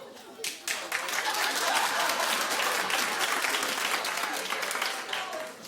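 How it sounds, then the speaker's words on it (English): A studio audience at a daytime talk show claps, rising quickly after a brief pause into sustained, fairly loud applause with scattered individual claps, then tapering slightly toward the end. "clap if you've watched"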